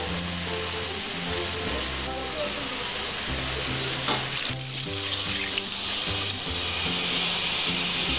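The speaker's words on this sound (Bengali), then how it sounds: "এইবার আমি ঝোলটা দেব।" Liquid poured into hot, oily masala for a potol chingri curry of pointed gourd and prawns sets off a loud, close sizzle and bubbling that runs steadily throughout, with stirring clatter over it.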